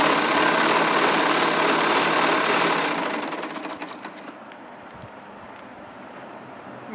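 An electric sewing machine stitching clothes whirs steadily for about three seconds, then winds down into quiet clicks and soft handling noises.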